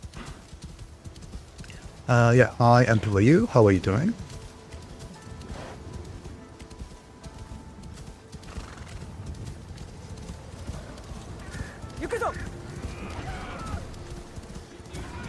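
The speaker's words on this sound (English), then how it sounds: "it's the horse supplied by default in the game" Clip-clopping hooves of the default horse in the video game Assassin's Creed Shadows, with a neighing whinny near the start over a steady game background; someone talks over parts of it.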